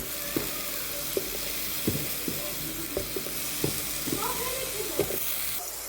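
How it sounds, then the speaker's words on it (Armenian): Eggplant frying in a pan, with a steady sizzle throughout and repeated scraping and stirring knocks every second or so. "Թողնեմ թող տապակվի ու կհանեմ։"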